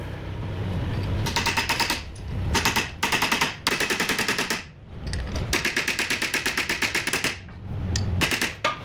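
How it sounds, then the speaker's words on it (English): A chisel is hammered into grooves on a bearing of a Lancaster Model 4220 hammer mill, making loud, rapid bursts of metallic strikes in rhythmic runs with short pauses between them, close and alone. "We're then gonna take our chisel and we're going to pound in these grooves to make this mark do a full rotation and land back in that groove."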